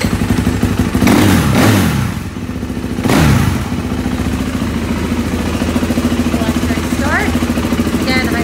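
A 2019 Kawasaki KX450 fuel-injected motocross bike engine runs steadily at close range, with a couple of brief revs early on and a voice speaking over the idle.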